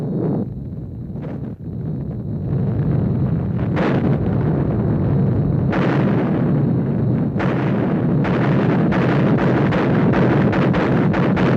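Massive Soviet artillery barrage on the German defenses before Berlin in April 1945, 22,000 guns firing at once: a continuous heavy rumbling roar of distant guns, with sharper blasts breaking through and rising to a sustained wall of noise.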